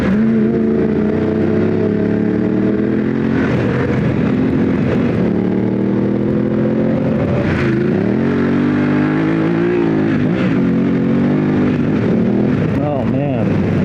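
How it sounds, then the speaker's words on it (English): Adventure motorcycle on Motoz Tractionator tires run at low air pressure, with a steady loud engine drone and shifting tire hum as the rider accelerates and eases off, rising and falling throughout, with the rider talking over it. "I can't believe how loud that front tire got as soon as I dropped the air pressure"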